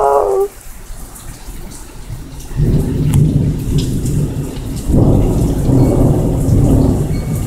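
Heavy thunderstorm rain pours steadily while thunder rumbles up twice, the second roll swelling louder, after a brief high bird-like chirp at the start; no one speaks.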